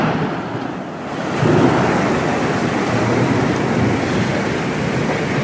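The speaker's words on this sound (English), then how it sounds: "This thunder sounds like gunshot, shotgun blast." Deep rumbling thunder rolls through a severe thunderstorm in Goose Creek, a loud, continuous low roar that swells after the first second and holds steady, mixed with rain and wind.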